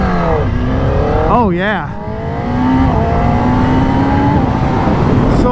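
Kawasaki ZX10R motorcycle engine revving hard on launch control, a loud, close, sustained drone with a sharp rise-and-fall rev in the middle, as a person speaks briefly over it.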